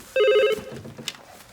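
A telephone rings with a short, bright electronic warble lasting about half a second, loud and close, followed by faint rustling and a brief clatter.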